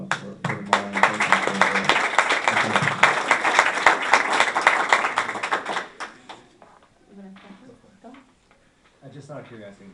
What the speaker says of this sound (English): If we can have one more round of applause for them all.